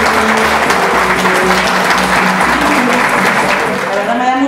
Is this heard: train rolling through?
no